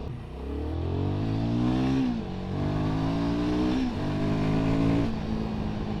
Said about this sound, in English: The engine pulls really hard actually.